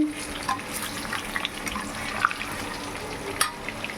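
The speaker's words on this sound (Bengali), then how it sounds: "চালটা এখন আমি ধুচ্ছি ধোয়া হয়ে গেছে" Rice being rinsed in water for biryani in a home kitchen, with soft sloshing and trickling water plus occasional light clinks, close and fairly quiet.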